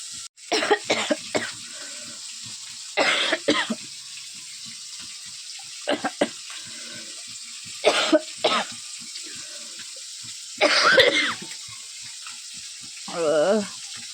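Someone coughs and clears their throat repeatedly after a fish bone sticks in the throat while eating amudi fish curry, bursts of harsh coughing spaced over a steady background hiss, near and loud.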